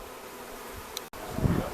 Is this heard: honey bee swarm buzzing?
yes